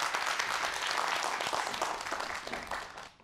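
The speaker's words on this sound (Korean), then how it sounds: "다시 한번 큰 박수 부탁드릴게요" Applause from a seated audience closing a lecture on mathematics and creative thinking, a dense, steady patter of many hands that holds for a few seconds and then fades away.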